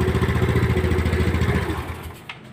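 Motorcycle engine running steadily at idle with a rhythmic mechanical pulse, then cutting out and dying away near the end; the bike is being tested for its DC ignition circuit after a regulator-rectifier is fitted.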